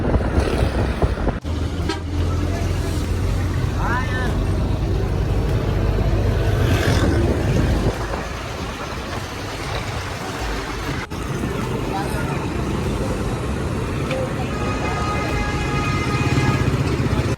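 Busy road traffic at Fateh Chowk in Hyderabad, Sindh: a constant rumble of engines with repeated horn toots rising over it, and people talking close by.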